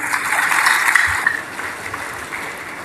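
Brief applause from a formal Indonesian ceremony audience, a burst of clapping that is strongest early on and then drops to a thinner, quieter patter.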